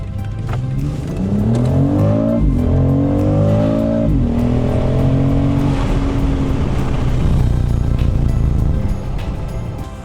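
A car in sports mode peels out at a car meet, its engine revving loudly with rising and falling pitch sweeps as it accelerates hard, close and continuous for several seconds.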